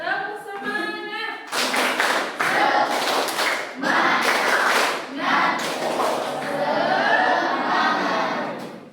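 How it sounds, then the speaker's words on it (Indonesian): A class of students claps together in quick rhythmic bursts, mixed with shouting voices, loud and close. "Tepuk semangat."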